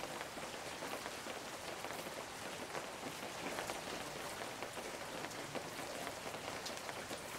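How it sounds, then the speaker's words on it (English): Steady, dense rain falls in a fishing video game, a continuous even hiss of many drops pattering on a surface, with no other sounds above it. "I can listen to the rain."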